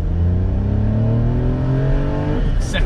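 A 2021 Toyota Aygo X-Trend accelerating hard with traction control off, its small engine revving up loud and close in a rising, strained drone before easing near the end.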